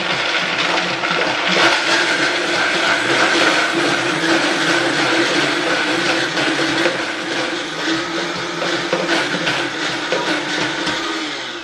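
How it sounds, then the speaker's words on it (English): A blender runs continuously at high speed with a steady, loud whirring roar and churning contents, no voices. "keep it moving in a regular blender"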